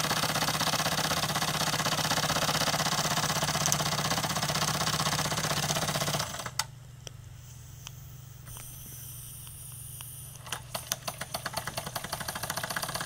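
A Wilesco D10 toy steam engine runs with a steady mechanical chugging hum, then drops abruptly to a quieter low rumble before faint rhythmic ticks and clicks return near the end.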